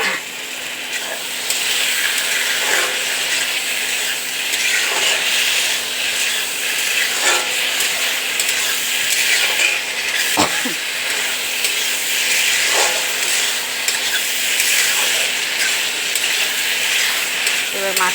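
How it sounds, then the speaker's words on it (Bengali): Mushrooms fry and get stirred in hot spiced oil for a vegetarian curry made in the style of a meat dish, giving a steady, close sizzle with occasional scraping clicks from the spoon throughout. "দেখো আমার মাশরুমটা মোটামুটি ভাজা হয়ে গেছে"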